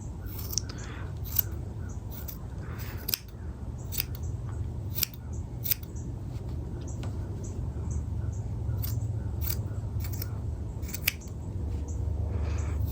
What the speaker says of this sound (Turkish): böyle bozuk olan yerleri makasla düzeltiyoruz